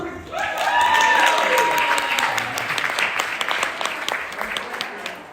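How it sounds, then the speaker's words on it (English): Wedding guests break into applause, dense clapping that swells early, then thins into scattered individual claps, with a few voices and cheers mixed in. "let's keep that applause rolling"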